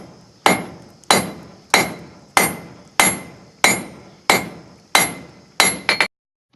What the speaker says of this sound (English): Now I'm going to be forming the third shoulder right again on this side of the anvil.